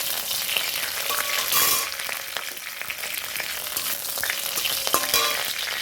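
Bay leaves, cardamom pods, a cinnamon stick and cloves fry in hot oil in a pan, giving a steady close sizzle with occasional crackles and light scraping, and no talking.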